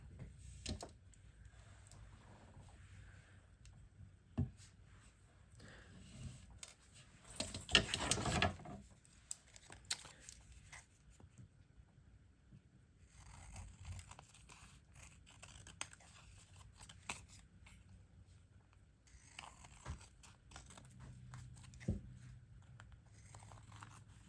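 Scissors cut fabric strips at close range with quiet, sporadic snips and crisp clicks, sounding alone in a very still room, with one denser burst of cutting midway.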